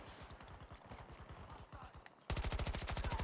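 Starter pistol fire in the video game Battle of the Fields comes as rapid, evenly spaced gunshots in steady bursts. The shots turn sharply louder and closer near the end.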